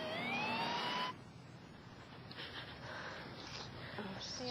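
A South Portland ambulance siren wails with a rising and falling tone, loud at first and then fading into a quieter, more distant drone, with some background noise and faint voices.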